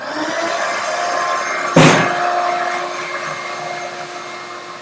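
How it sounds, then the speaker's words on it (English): A power tool with a vacuum dust-extraction attachment works over self-leveling compound, giving a steady loud whirring drone with one sharp knock partway through. "the vacuum attachment works pretty well to keep the dust under control"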